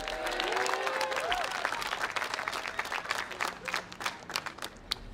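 Crowd applauds at a ceremony presenting the key to the city of Washington, D.C., to Jonathan Ogden, a sustained roar of clapping with a few whistles and cheers early on, thinning into scattered claps.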